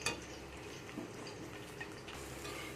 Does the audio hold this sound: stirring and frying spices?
yes